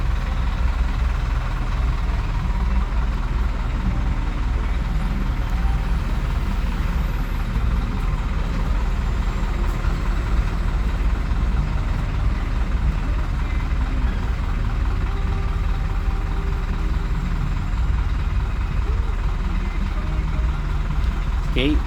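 Lorry truck engine idling after being started, a continuous low, rumbling drone that holds steady and loud throughout with no breaks.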